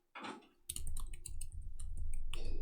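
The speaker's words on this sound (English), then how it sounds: "Let's see how the keyboard is doing." Laptop keyboard recovering from liquid damage, its keys pressed and tested, some sticky: a short burst of tapping, then a dense run of close, steady key clicks against a constant low background hum.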